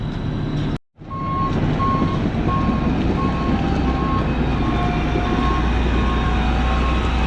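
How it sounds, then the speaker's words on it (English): A loaded rock truck rolls onto a road-building site, its deep engine rumble steady and loud while a regular reversing beeper pulses above it, briefly cut by a moment of silence near the start. "I guess it's our third rock truck rolled in"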